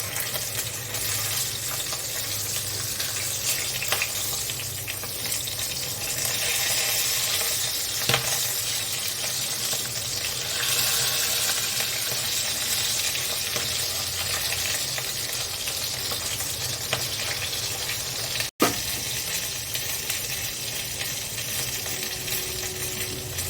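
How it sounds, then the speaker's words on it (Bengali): A fish head fries in oil in a pan, a steady loud sizzle running throughout with occasional clinks and stirring scrapes, alone without talk. "মাছের একটা সাইড ভাজা হয়ে গেছে মুড়োটার, এবার উল্টে দিচ্ছি অন্য সাইডটা ভাজার জন্য।"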